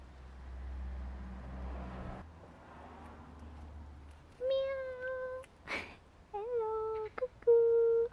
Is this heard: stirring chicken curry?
no